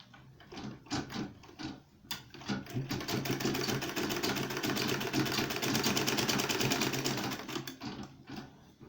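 Sewing machine stitching a bag made from old jeans, a rapid mechanical whir that starts in short bursts, then runs steadily for several seconds before slowing and stopping, close and with no talk.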